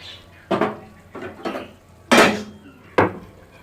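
Dal being served from a pot, with a spoon clattering against the metal in four or five sharp, separate knocks and scrapes, close and fairly loud, with no talk.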